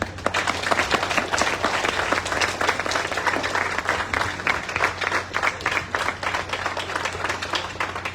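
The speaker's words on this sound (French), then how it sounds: "pour nous applaudir cardinal Chibli" An audience applauds for Cardinal Chibli at a school centenary celebration, a dense sustained clapping that fills the clip at steady loudness with a low hum underneath.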